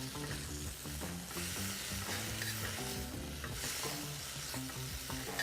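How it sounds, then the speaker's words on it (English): Greens tossed in a hot skillet with balsamic vinegar, a dense continuous sizzle and stirring heard close up, with background music underneath and no voices. "turn the heat off your skillet and just lightly toss your greens"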